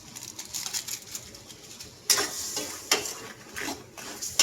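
Crab simmering in coconut milk is stirred in a pot, several close clinks and scrapes of a utensil against the metal at irregular intervals over a soft bubbling background.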